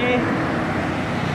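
Indonesian road traffic during a holiday homecoming trip, with motorcycles such as Vario, Supra X, NMAX and Jupiter MX scooters and underbones passing close by in a steady roadway rumble, with a voice speaking over it.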